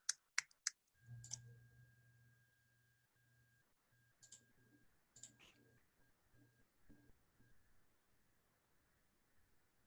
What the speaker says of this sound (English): I hear some of you typing.